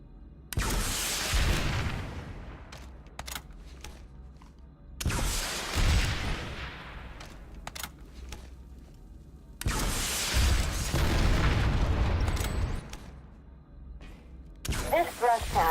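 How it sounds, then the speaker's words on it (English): Rocket launcher blasts against an enemy vehicle in the game PlanetSide 2: four heavy booming explosions spaced a few seconds apart, each a loud broad burst decaying into rumble, with quiet gaps between. "Switch to your rocket launcher and use it to blow up an enemy vehicle."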